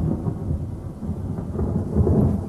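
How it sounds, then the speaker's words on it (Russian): A nighttime thunderstorm rumbles low and steadily with rain, a continuous deep roll of thunder filling the air with no voices. "Идет гроза."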